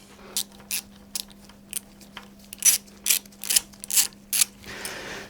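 A Jubilee hose clip is tightened on a Triumph Bobber motorcycle's rear shock, producing about ten crisp ratcheting clicks in uneven bursts that grow louder and quicker toward the end, close up with no voices.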